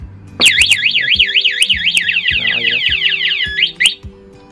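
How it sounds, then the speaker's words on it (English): An electronic scooter alarm, triggered by tapping, wails in rapid rising-and-falling sweeps for several seconds, punctuated by sharp short beeps before and after. "If you do it again, then it's gonna trigger the alarm."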